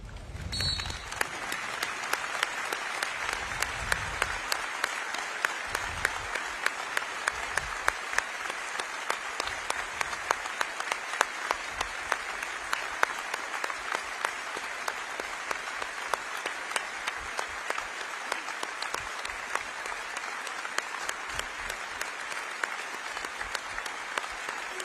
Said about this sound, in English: Those that can stand, please do, as we clap 24 seconds for Tim Greenfield.